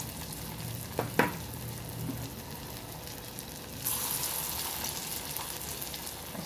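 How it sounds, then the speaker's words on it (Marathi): Mung bean fritter batter sizzles in hot oil in a kadhai, a soft steady frying crackle with a few clinks from a spoon early on and a louder burst of sizzling partway through. "कढईत तेल गरम झालेलं आहे, तर यामध्ये असं आपण मुगाचे भजे टाकू।"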